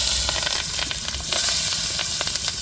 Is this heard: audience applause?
no